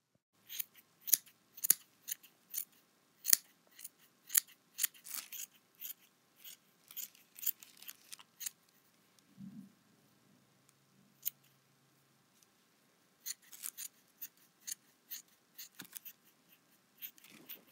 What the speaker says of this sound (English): after you cut this side, you'll go over your trash can and cut the little bunches that you didn't get in the beginning